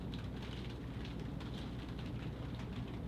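Rain falls steadily on the world's oldest clipper ship, a dense, continuous patter with a low rumble underneath and no voices.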